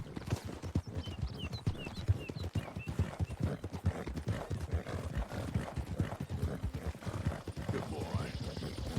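Horse hooves in Red Dead Redemption 2 clip-clop steadily and close at a quick, even gait, with a brief whinny early on and faint talk underneath.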